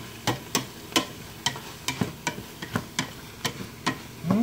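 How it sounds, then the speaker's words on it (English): Garlic sizzles softly in a pan for a summer vegetable stew while a utensil stirs in regular, distinct scraping strokes, about a dozen crisp taps in even rhythm, close and fairly quiet with no talk. "Garlic's in there cooking away."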